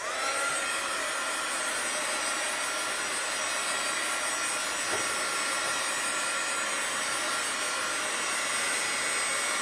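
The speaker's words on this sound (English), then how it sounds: "I'm going to quick dry this with my heat gun." A heat gun blows steadily over wet paint on an art journal page, a loud, constant whooshing roar that fills the whole stretch without pause.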